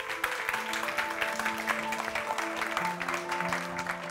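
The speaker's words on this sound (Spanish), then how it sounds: "vamos a recibir a todo este talentazo, a todos estos equipos, con un fortísimo aplauso" An audience at a film festival screening applauds, a dense patter of clapping mixed with sustained tonal music throughout.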